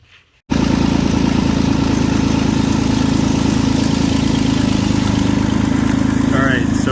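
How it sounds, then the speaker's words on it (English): A Jeep Wrangler JK 3.8L engine with a leaking exhaust manifold starts and runs with a loud, rough, ticking rumble, steady and close throughout, with no pauses. "ignore the horrible noise of my exhaust manifold leak"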